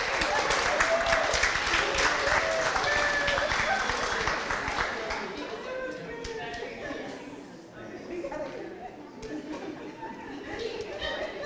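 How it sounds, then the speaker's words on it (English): Crowd applause with chatter from an audience, loud at first and then fading, as a voice speaks over the clapping. "Let's give Nikki another round of applause, everyone."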